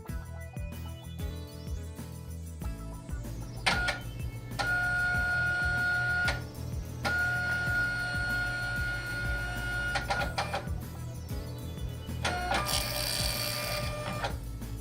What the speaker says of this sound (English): Wait for the printer to restart and print a configuration label.